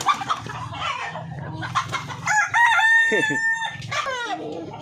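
Chickens cluck and a rooster crows loudly and close by, with ducks and a mix of farmyard bird calls overlapping throughout.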